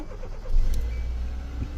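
A 2015 Kia Soul engine cranks and catches, then settles into a steady idle close by, tested after ignition removal and cover repair with all keys lost.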